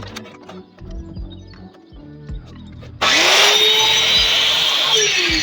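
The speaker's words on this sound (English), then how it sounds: "Drill up that hole a bit" A power drill bores a hole in a wooden chair under repair, bursting in loudly after some quieter handling noises and whining steadily close up, its pitch sagging briefly as the bit bites into the wood.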